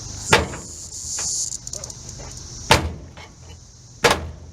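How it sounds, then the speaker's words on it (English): The solid-cab door of a 1936 Ford Model 68 pickup truck is worked, giving three sharp metallic clunks spaced a couple of seconds apart. Crickets and insects hum steadily in the background. "Doors all work good."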